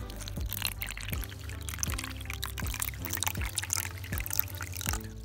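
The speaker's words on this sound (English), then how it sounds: "Now for the water, which I have in this jug over here." Water pours from a jug into a tarantula enclosure as a steady splashing trickle, with a low rhythmic thump repeating about every 0.7 seconds underneath and no talk.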